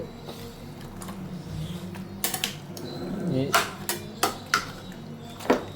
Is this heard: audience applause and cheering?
no